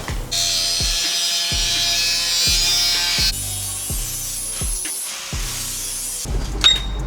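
A power tool cuts a thin strip of sheet metal for a drift car build, giving a loud, steady whining buzz with regular ratcheting pulses roughly every second, close up, ending in a brief clatter.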